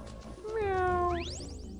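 A cartoonish cat meow from the Mystical Ninja Starring Goemon video game, a rising then long falling tone followed by a quick bright sweep of game sound effects.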